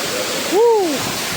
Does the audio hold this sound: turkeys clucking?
no